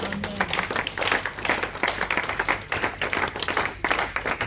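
A church congregation applauding, many hands clapping in uneven, rippling waves that fill the room throughout.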